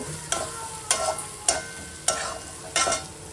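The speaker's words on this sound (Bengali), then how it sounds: "মশলাটা কিন্তু খুব ভালোভাবে আমি নেড়ে চেড়ে কষিয়ে নিয়েছি" Spice paste of turmeric, coriander, cumin and garam masala being stirred and fried for a cabbage and fish head curry, five sharp scraping strokes at a steady rhythm over a low sizzle, close and alone.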